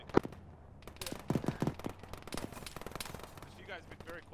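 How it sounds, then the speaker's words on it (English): Anti-tank shots fired at a tank in a video game: a sharp near blast opens, then scattered gunfire and distant shots crackle under ongoing radio chatter. "Taking AT shots from the west,"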